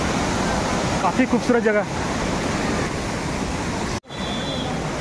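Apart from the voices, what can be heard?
waterfall, water falling down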